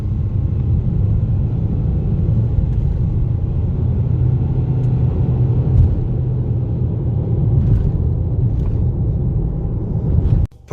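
A Mitsubishi ASX accelerates hard from 0 to 100 km/h, heard from inside as a loud, steady low engine and road rumble that keeps building until it cuts off abruptly at the end.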